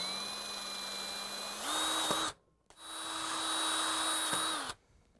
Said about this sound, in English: we're going to grab the drill and a 1/8 inch drill bit and drill the rivets out